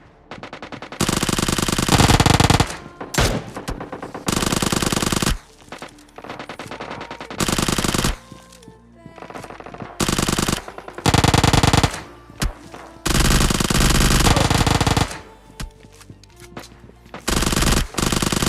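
Uzi fire in the mobile shooter PUBG Lite comes in loud, close, repeated automatic bursts of varying length, separated by short lulls, with no voices over them.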